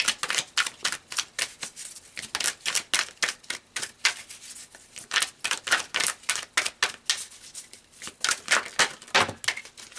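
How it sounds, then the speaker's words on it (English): Tarot cards being shuffled up close, a fast run of crisp riffling slaps in irregular bursts that continues steadily with no talking. "let's pull some more cards"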